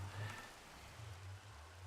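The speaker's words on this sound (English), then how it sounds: "Oh, because it's raining, duh." Steady rain falls in Minecraft, a soft continuous patter with a low rumbling undertone, fairly faint and without voices.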